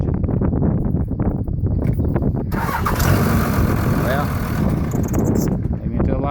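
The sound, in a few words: 2001 Dodge Ram 2500 Cummins diesel engine running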